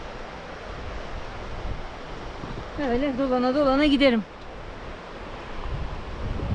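A waterfall near a caravan trip stop rushes in a constant broadband wash, with a voice speaking over it briefly in the middle.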